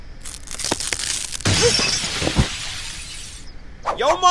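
A glass wall shatters with a loud crash, followed by a long spray of breaking and tinkling shards lasting about two seconds, with brief thuds before and a voice afterward.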